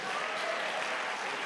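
A church congregation at a Sunday service claps together, a dense, even burst of applause filling the room for a moment.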